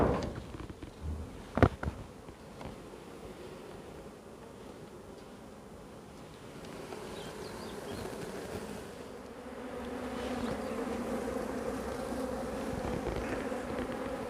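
Honey bees swarm over beehive frames, a dense, continuous buzzing hum that stays fairly quiet and steady, with a couple of sharp handling knocks near the start and the drone thickening later.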